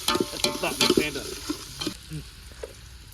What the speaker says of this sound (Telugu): ఇలా మంచిగా చాలా ఆయిల్ ఫ్రై చేసుకోవాలి